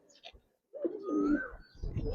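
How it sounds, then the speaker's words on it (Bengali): After a brief near-silent pause, Giribaz pigeons break into a steady, throaty coo that swells and holds close by, with a few soft chirpy notes at the start and a rougher burst near the end. "শৌখিন কবুতর ভাই।"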